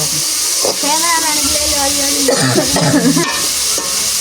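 Vegetables sauté in a pan with a steady hiss and sizzle, and stirring sounds run through it. People talk over the cooking throughout.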